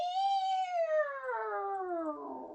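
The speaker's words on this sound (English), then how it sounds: "A wail of a cat screeching was the town's alarm." A single cat screech, a long wailing meow that starts high, holds, then slides downward over a couple of seconds, clear and close with no other sound underneath.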